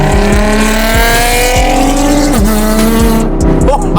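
A loud sports car engine roars up close, revving and shifting through gears with a brief tire squeal, the pitch climbing and dropping.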